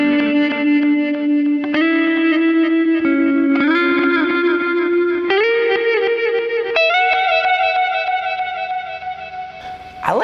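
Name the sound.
guitar through Horizon Devices Flux Echo reverse delays and reverb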